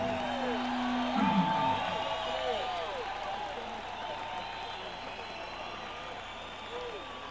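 A big outdoor concert crowd at Jones Beach Theater in Wantagh, New York, cheers, whoops and claps in a steady, dense wash of noise, loudest in the opening seconds and then holding at a slightly lower level.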